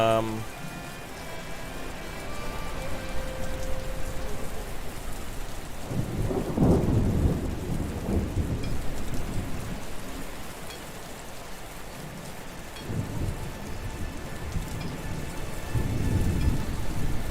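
Steady rain with rolling thunderclaps in the survival city-builder game Patron, a constant hiss of rainfall beneath several deep rumbles of thunder that swell and fade across the scene.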